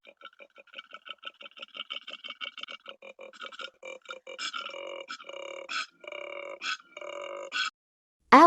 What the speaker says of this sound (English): koala